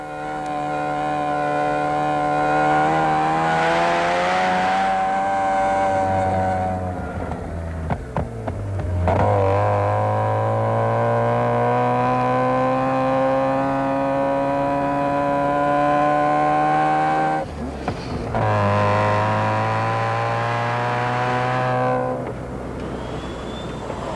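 Onboard a 1988 Audi Quattro rally car on the Tour de Valvoline, the engine drones loud and close with rising, falling harmonics through gear changes, alone with no voices.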